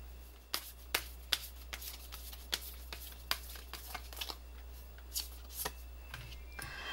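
Tarot cards are shuffled close by in a quiet room, giving a steady run of crisp, sharp riffles and snaps spaced through the clip with no talking.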